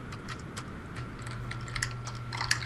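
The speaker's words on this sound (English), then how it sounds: "Sorry about the typing sound." Someone types on a computer keyboard in quick, light, irregular clicks at moderate distance, over a low background hum.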